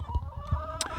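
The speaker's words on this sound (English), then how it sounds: "These chickens are all going crazy right now because this is about the time that we let them out" Several chickens clucking close by in a short burst of quick, overlapping calls, excited as they wait near their coop, with no talking.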